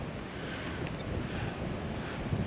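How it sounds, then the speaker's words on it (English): Strong wind roars steadily outdoors on a mule deer hunt, buffeting the microphone with a continuous broadband rush and low rumble and no pauses. "this wind is absolutely nuts"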